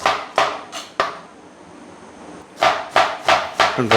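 Knife cutting a vegetable into even round slices on a cutting board: a series of sharp, close thuds, a few quick strikes, a pause, then a faster run of chops.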